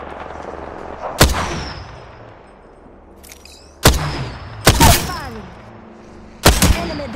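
Gunfire in the battle royale game Apex Legends: four loud, sharp shots spaced a second or more apart, each followed by a booming echo tail, with faint game sounds in between.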